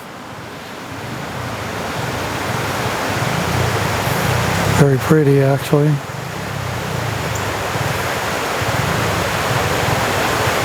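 Rushing water of Middle Creek in the Appalachian woods, a steady broad roar close by that runs without a break, with a short spoken remark in the middle.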